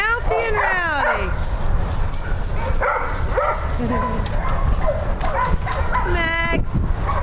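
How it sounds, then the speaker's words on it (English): Several dogs bark, yip and whimper excitedly in bursts close by, and a person talks over the noise. "Hey, you guys are really rowdy. Mouthy and rowdy."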